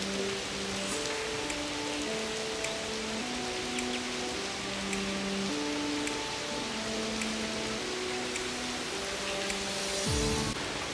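Artificial rain pours steadily inside an indoor rain room attraction, an even hiss of falling water with melodic background music playing beneath it.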